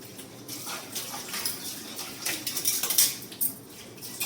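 Dishes, pots and pans are washed under running water at a kitchen sink, with scattered clinks and clatters of metal and crockery growing busier toward the end, close and without speech.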